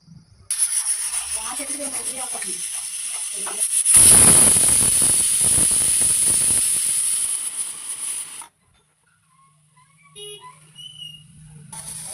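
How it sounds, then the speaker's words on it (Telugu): Pressure cooker cooking dal with greens lets out a loud, steady steam hiss with a shrill whistling edge for several seconds, then cuts off abruptly into quiet with faint background sounds. "ఒక 3 విజిల్స్ వచ్చేంత వరకు వెయిట్ చేద్దాం."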